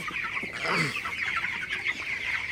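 Broiler chickens cluck in a shed, a dense steady chorus of birds close by with one louder call standing out near the start.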